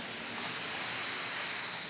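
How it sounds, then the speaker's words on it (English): Activator sprayed onto floating hydrographics film makes a steady, fairly close aerosol hiss that holds evenly for about two seconds, swelling slightly in the middle with no other sounds. "let's go ahead and spray our activator"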